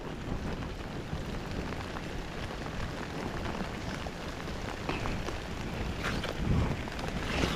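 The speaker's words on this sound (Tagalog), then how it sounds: "Ayaw pa naman tumigil ang ulan mga kadidit." Steady broadband rain on a rural tomato garden, continuous and unbroken throughout, with a slight swell near the end and no thunder standing out.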